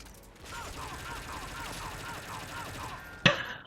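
Steady rapid automatic gunfire in the Metal Gear Solid V video game, an even rhythmic rattle of shots ending in one louder sharp impact.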